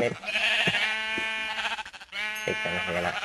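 Sheep in the video game Minecraft bleating, several loud, wavering baa calls close by in quick succession, with a short pause between them.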